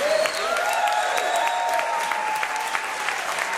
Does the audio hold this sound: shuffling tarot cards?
no